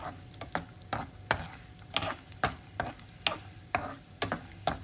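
Cashews, almonds and raisins fry in a pan, stirred with a spoon that knocks and scrapes in a steady rhythm of sharp clicks over a low sizzle.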